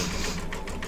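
Embroidery machine stitches with King Star metallic thread in quick, rhythmic mechanical taps, close and steady through a brief moment, without talk.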